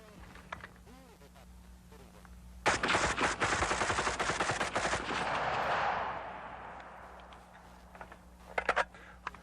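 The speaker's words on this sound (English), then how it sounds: "I'm going to try my best to hit those 5 targets with 20 rounds." Rapid gunfire in a timed shooting demonstration, with about twenty rounds fired at five targets in one dense burst of cracks lasting around three seconds, followed by a few scattered clicks and knocks.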